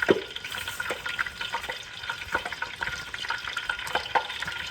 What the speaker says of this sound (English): I'm just waiting on the fish to get brown and crispy